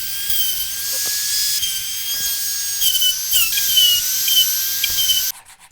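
A Dremel rotary tool with a saw bit grinds down cured body filler on a cross-country ski, a loud, close, steady high-pitched whine that dips briefly under load and then cuts off near the end.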